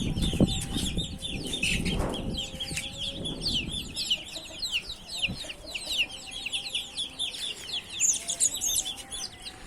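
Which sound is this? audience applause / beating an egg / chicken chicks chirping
chicken chicks chirping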